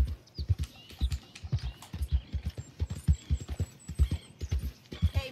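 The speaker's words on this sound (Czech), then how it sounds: "Pěkný kůň." Horse hooves in Red Dead Redemption 2 clop in a steady walking rhythm, a rapid run of distinct close thuds continuing throughout, with faint game ambience and no talk.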